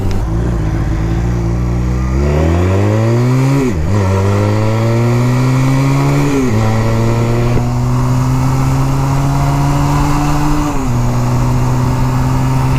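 A motorcycle accelerates hard along a highway, its engine note climbing steadily through three quick gear changes before holding a high, droning cruise. It is loud and close throughout, with wind roar and no voices.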